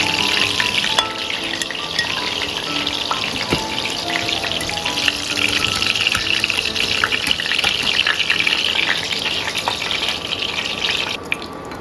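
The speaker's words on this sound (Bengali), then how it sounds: "মিডিয়াম ফ্লেমে এইভাবে বড়াগুলোকে ভেজে লাল লাল করে ভাজা হয়ে গেছে।" Chicken pakoras deep-fry in hot oil in a kadai on medium flame, bubbling and crackling in a dense, continuous sizzle with scattered pops throughout, close and fairly loud with no talking.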